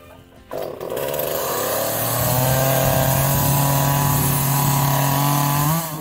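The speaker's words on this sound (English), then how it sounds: "Crank up my chainsaw" A chainsaw pulled to start on a homestead while clearing trees for fruit trees, then catching and running loud and steady at close range, its engine note rising to a sustained high whine before cutting off.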